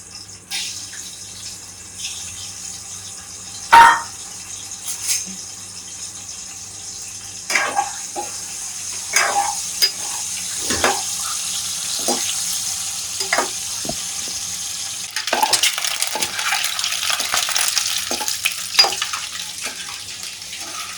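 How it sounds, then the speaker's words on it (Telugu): Eggs fry in a pan with oil, turmeric and salt, a low steady sizzle broken by scattered clinks and scrapes of turning, with a louder knock near the start and running water mixed in, close by and without speech. "ఎగ్స్ని ఇప్పుడు ఫ్రై చేస్తున్నాను"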